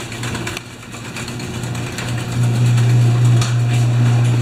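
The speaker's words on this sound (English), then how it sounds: "I'm going to take the leaf blower and clean off the snow that's on the sidewalks" A leaf blower's small engine runs steadily and loudly, its pitch rising a little partway through as the throttle opens. It is being used to clear a light skiff of snow from sidewalks in late March.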